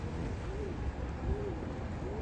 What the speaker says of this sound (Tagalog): May mga kalapati din dito.